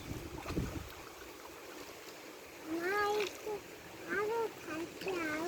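Water sloshes and splashes around a small village rowboat under steady wind noise, while voices speak over it.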